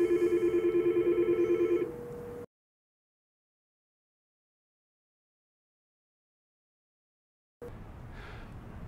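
A Yealink T41/T42 desk phone rings for an incoming call, a close electronic warble pulsing rapidly for about two seconds before cutting to silence, followed by faint room noise.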